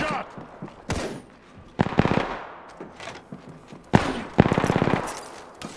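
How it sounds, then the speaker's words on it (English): Rapid bursts of video game gunfire from enemies in a Gibraltar battle-royale match, with sharp volleys, the loudest near 2 and 4 seconds, mixed with player chatter. "The enemies are shooting at me."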